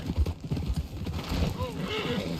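A horse in the video game Red Dead Redemption 2 clops with close, irregular hoofbeats and gives a short whinny midway, while voices talk over it.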